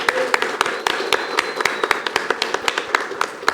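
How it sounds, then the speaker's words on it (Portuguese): Small group applauding a guest at a talk hosted in a college hall, with sharp separate claps in an irregular, fairly sparse rhythm rather than a dense roar. A faint background tone runs underneath. "Então, uma salva de palmas pro Matheus Emboava ali também."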